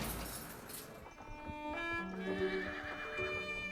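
A horse tied to a horse-drawn tourist carriage gives a drawn-out whinny with a rising and falling pitch over a soft, muffled background. Faint hoof clip-clop may sit beneath it.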